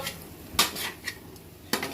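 A spoon stirring a metal pot of adadiya pak, a sweet Gujarati dish, on the stove, with scraping and clinking strokes close up, one sharp knock in the middle and another near the end.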